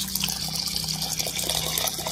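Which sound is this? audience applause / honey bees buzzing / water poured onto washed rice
water poured onto washed rice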